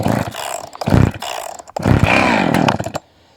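A chainsaw is pull-started with the switch on, choke out and compression button in: a few ripping cord pulls, the engine briefly firing and roaring for about a second, then cutting off into quiet.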